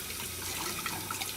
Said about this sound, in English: And as you're rinsing it, squeeze gently.